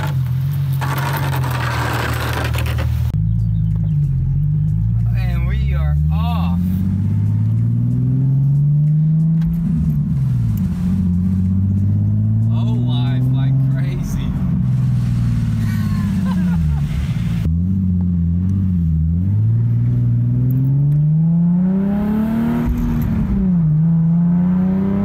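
A drift car bought at auction on its first test drive, its engine droning and rising through revs, loud and close throughout, with light rattling and scraping hard to pick out under the engine; no talking.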